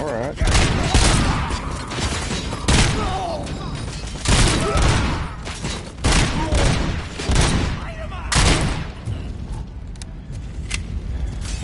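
RoboCop's gun fires in a PS5 video game. It sounds as a series of loud, fairly slow shots with mechanical creaks between them, and a player talks over the action.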